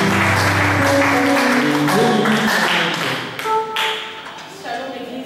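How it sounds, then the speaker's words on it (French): Church congregation applauding and shouting praise to the Lord, a loud wash of clapping and cheering voices that slowly thins into scattered claps and a sustained tone. "on acclame le Seigneur"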